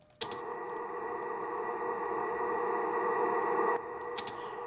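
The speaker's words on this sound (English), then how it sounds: "Right, it's just a reverb tail." Reversed reverb tail effect swells as a dense, sustained tonal wash that builds gradually for several seconds and then cuts off abruptly, leaving a quieter residual drone.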